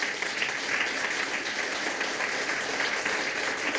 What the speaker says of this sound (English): You can make it an applause.